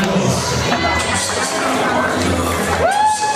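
A studio audience on a late-night chat show breaks into loud, sustained cheering and crowd noise, with whoops rising over a dense wash of applause that fills the whole moment.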